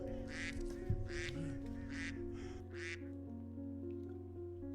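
Several ducks quack in a run of loud, harsh calls over the first three seconds, standing out above a steady low hum and background music that carry on alone afterward.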